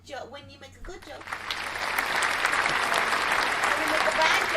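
Canned applause sound effect fired from a soundboard, starting beneath a brief spoken word and quickly swelling into a steady, dense wash of clapping that holds at full level to the end.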